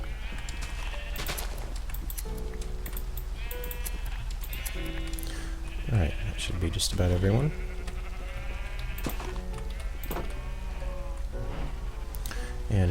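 Bleating sheep from the game Minecraft call out several times, with a voice talking briefly over the game music and the animal cries.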